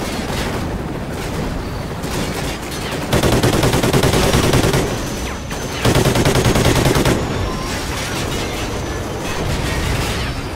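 Dense video game gunfire from Call of Duty: Ghosts, with overlapping automatic bursts and shots rattling almost nonstop and swelling into louder heavy volleys in the middle, a chaotic firefight with no talking.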